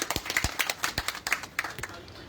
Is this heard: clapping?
yes